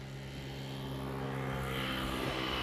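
Airplane rolling down the runway at Amsterdam Airport, a steady engine roar that builds slightly in loudness across the clip, heard from a distance outdoors with no voices.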